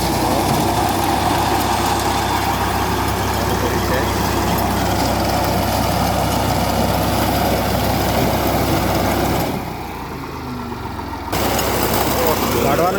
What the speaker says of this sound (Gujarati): આજે બાજરી વાળવા માટે કટર બોલાવેલું મશીન આવી ગયું છે